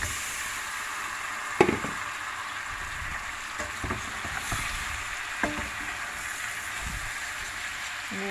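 Molli fish coated in turmeric and chili frying in a pan: a steady low sizzle with scattered sharp spits and knocks, no voices.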